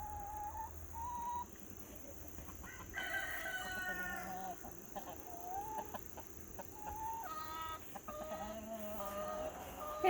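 Backyard chickens at a coop cluck and call continuously in a faint, busy chorus, with overlapping squawks and a crowing-like cry or two over steady outdoor background noise.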